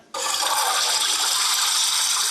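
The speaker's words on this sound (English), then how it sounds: "Flush out the toilet." A toilet flush sound played from a phone app starts abruptly after a brief silence, then runs as a steady, loud hissing rush of water to the end.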